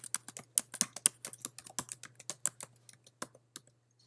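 Rapid, uneven keystrokes on a computer keyboard, close and crisp, a quick run of clicks that slows and thins out toward the end over a low electrical hum.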